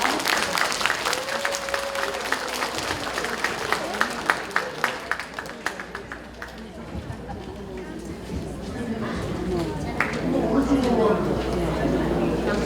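Audience applause welcoming performers at a Parents' Day celebration at a senior center in LA, a sustained crowd clapping that starts strong with sharp individual claps, thins in the middle, then swells again, with chatter underneath.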